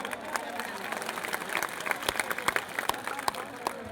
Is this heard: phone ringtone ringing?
no